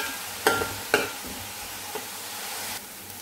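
Chopped onions being sautéed in a pan for a Kerala-style spicy beef curry, with a steady low sizzle and a few sharp scraping stirs of a spoon against the pan, close and without talk.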